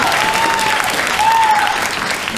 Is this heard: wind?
no